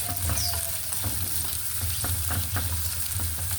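Onions sizzle in a pan, a loud continuous hiss with regular short scrapes from stirring, close up and free of speech.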